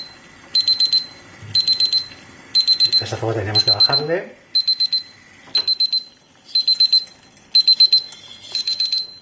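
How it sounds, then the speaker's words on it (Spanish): An Avantek cooking thermometer alarm beeps in quick bursts of four on reaching 100 degrees, repeating rhythmically and fairly loud while a person speaks over it. "ha alcanzado los 100 y pitaría la alarma"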